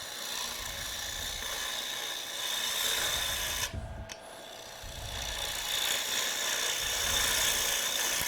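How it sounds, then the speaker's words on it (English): A gouge taking a pull cut on a wooden bowl spinning on a lathe, producing a continuous loud rasping, tearing hiss of wood being cut, briefly interrupted by a short break midway before resuming. "this is just a pull cut, no bubble rubbing, just taking out some wood"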